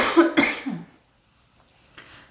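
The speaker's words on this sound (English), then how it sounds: "And so I'm starting to cough now" A couple of sharp, close coughs in quick succession, followed by quiet and a faint throat sound near the end.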